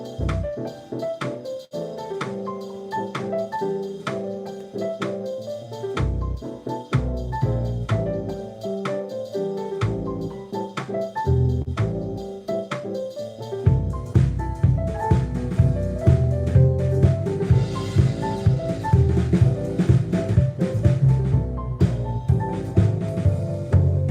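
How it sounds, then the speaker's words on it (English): A lead melody played over a full drum groove and backing, with steady rhythmic hits and sustained tones that get busier and louder in the second half, heard alone without talk. "So playing the lead with the rest of the drums and everything,"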